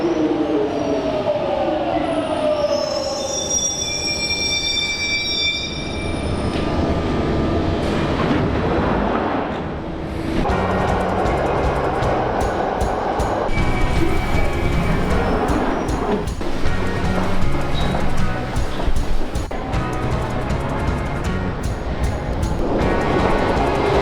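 London Underground Jubilee line 1996 stock train moving through a station, rising whine of traction motors at the start, then a loud rumbling roll with squeals and rattles that builds and surges toward the end.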